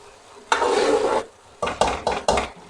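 Tomatoes softening in a cooking pot for a Pakistani-style beef kofta curry masala, a spoon scraping and stirring in one long pass followed by several short sizzling strokes, close and clear with no talk.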